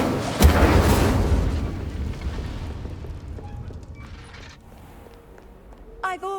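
An Incendio fire spell in a video game sets things ablaze with a sharp burst and roaring whoosh of flame that gradually fades, followed by creaks and a brief bright crackle at the end.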